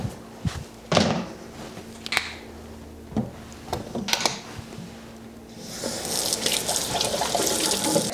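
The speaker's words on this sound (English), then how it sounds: "I'm gonna wash my hands right now" Hands are washed under a running kitchen tap, with scattered knocks and splashes before the faucet opens fully into a steady, close rush of water in the final seconds.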